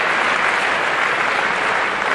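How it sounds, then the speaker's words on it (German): Dense, steady applause from a crowd at the 2010 German badminton championships in Bielefeld, a loud, even wash of clapping filling the hall throughout without a break. "Ja, kriegen wir einen Applaus, oder?"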